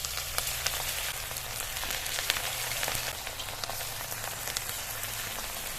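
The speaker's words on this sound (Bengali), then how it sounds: "গরম তেলে একে একে ছেড়ে দিয়ে ভেজে নেব।" Cauliflower pieces frying in medium-hot oil for a Manchurian dish, a steady, dense crackling sizzle like rain on a surface, continuous and fairly loud with no talking.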